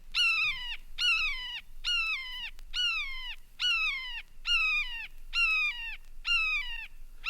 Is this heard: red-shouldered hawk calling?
yes